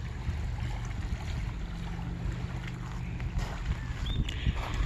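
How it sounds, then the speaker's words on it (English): Water at Canyon Lake, Arizona, laps and splashes softly along the shore as a steady, low wash, with light knocks and scattered outdoor noises over it. "I love the sound of water"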